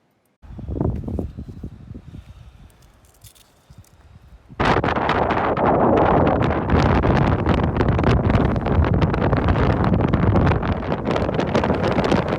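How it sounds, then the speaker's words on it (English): Wind roars into the microphone, starting with softer buffeting and then surging into a loud, sustained gust that blusters continuously. "the wind picks up with strong gusts"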